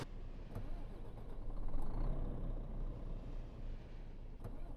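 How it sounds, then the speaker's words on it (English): A truck engine in Euro Truck Simulator 2 revs while the truck stays put, a mid-pitched drone that swells and holds, fairly quiet and steady, with a few brief clicks over it. "It's doing the revving up noise, but it's not actually going anywhere."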